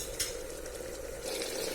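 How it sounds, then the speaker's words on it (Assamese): Potatoes and mutton stirred in a pan, a steady sizzle with soft scraping and faint clinks of a utensil against the metal, continuous and close, no talking. "আলুখিনি 5 মিনিটমান মাংসখিনিৰ সৈতে এনেকৈ লৰাই থাকিব।"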